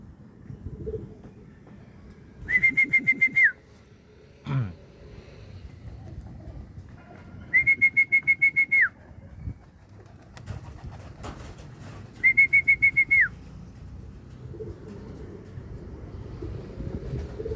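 Three short bursts of high, rhythmic electronic beeping as racing pigeons arrive, evenly spaced, over a low rumble of background noise and faint movement.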